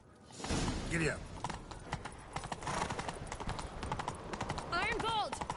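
Horse hooves clip-clop steadily at a gallop in The Witcher 3, close and clear, under game character dialogue, with a brief whinny near the end.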